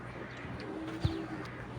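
Domestic pigeons, including khaki-coloured birds in a loft, give a faint, low coo with one brief louder note midway against quiet background noise.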